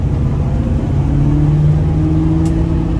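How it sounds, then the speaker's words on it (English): A 1977 Pontiac Trans Am SE400 is driven through a turn at around 30 mph, its engine a loud, continuous low rumble with a rising whirring tone, heard close from inside the cabin. "Classic cars don't really turn that way. Don't really handle like that. But this Trans Am does."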